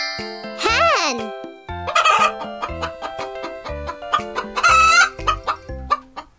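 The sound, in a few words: hen clucking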